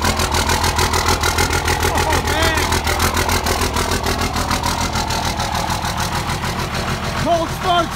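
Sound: 24 valve Cummins Dodge diesel idling after cold start

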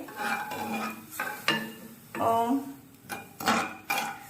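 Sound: stirring sugar into shevla kheer in a pot

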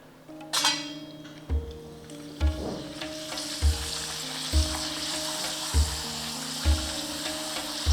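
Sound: urad dal papad frying in oil

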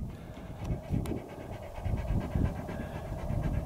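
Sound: dog panting

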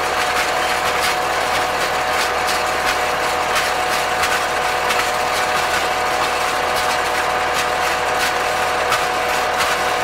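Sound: CLAAS 46 baler twine-wrapping mechanism running

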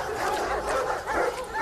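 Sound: dog barking

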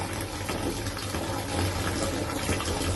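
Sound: blood-coloured tap water running in Mariupol

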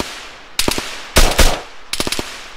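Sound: gunfire in the video game ARMA 3

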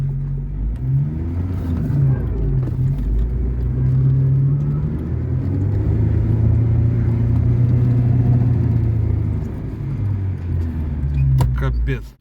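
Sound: car engine driving uphill on a snowy road

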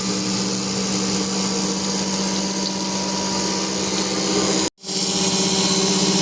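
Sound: power tool grinding metal caliper

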